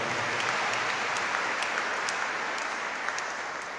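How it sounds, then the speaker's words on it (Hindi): A steady wash of crowd applause at a Catholic Jubilee Year church celebration in Lahore, many hands clapping together evenly, slightly distant and softly reverberant, holding level throughout. "तो हम सारी टीम का ज़ोरदार तालियों के साथ शुक्रिया अदा करें एक बार फिर।"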